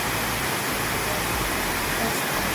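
Water rushes steadily past a living root bridge in Meghalaya, a loud, dense, unbroken roar with no pauses.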